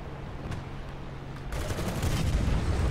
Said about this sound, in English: gonna put artillery on the far building